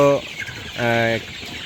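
Chickens on a poultry farm let out two loud, close, drawn-out clucks or squawks in quick succession against a busy flock background.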